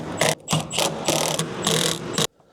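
A ratchet tightening roll cage bolts on an Eclipse car build: four or five quick, close ratcheting bursts of clicking, each about a third of a second long, ending abruptly in quiet.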